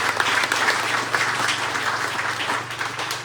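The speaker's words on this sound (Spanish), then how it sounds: "Un aplauso para él, por favor." An audience at a book presentation in a rural municipality applauds, a lively patter of many hands clapping at close range over a low steady hum, sustained for several seconds.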